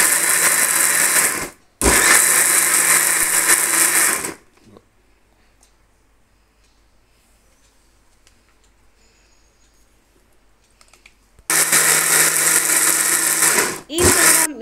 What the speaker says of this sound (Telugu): ఈ విధంగా మిక్సీ పట్టుకున్న పండు మిర్చిని మనం నిమ్మకాయలతో కలపాలి